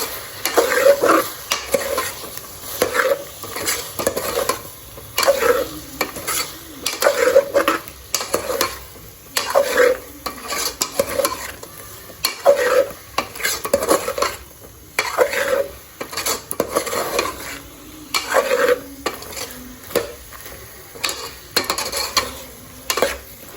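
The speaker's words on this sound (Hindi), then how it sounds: "टिंडे डाल के इसको हमने अच्छी तरीके से मिक्स कर देना है।" Apple gourd (tinda) being stirred and fried with meat in a pot, with repeated scraping strokes of a spoon against metal in a steady rhythm over a constant sizzle, close and fairly loud.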